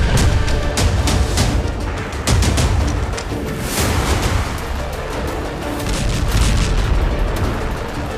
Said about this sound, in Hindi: उधर बेरूत में बारूदी हमले और मिसाइल बिल्डिंग को चीरती हुई आर पार हो गई।